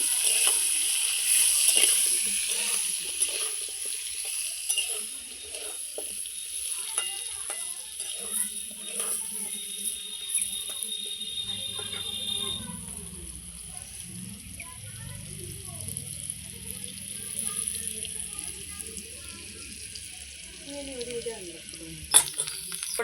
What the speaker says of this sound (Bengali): একটু হলুদ দিয়ে দিচ্ছি আস্তে আস্তে কষিয়ে